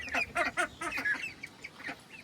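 Ducks on a farm quacking and honking in a rapid run of calls, several birds close by and loud, no talking.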